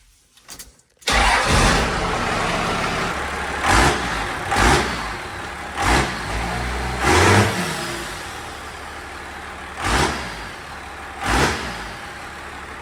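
A 12-valve Cummins diesel engine swapped into a 1946 Chevy cranks and fires up, then idles with a steady rumble, punctuated by several short revs at irregular intervals.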